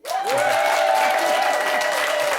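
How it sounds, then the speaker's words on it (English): A late-night TV studio audience bursts into loud, sustained applause with whoops and cheers, a dense, close wall of clapping that holds steady for a couple of seconds. "I'll hold for applause."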